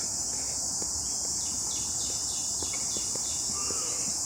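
Cicadas buzz in a steady high-pitched drone outdoors in Guangzhou, China, a constant loud hiss that fills the whole stretch with faint scattered clicks beneath it.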